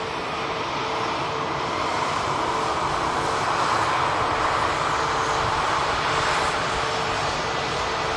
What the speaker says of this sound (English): The aircraft you can see now, guys, EasyJet A320 arriving in from Istanbul with a in-flight emergency.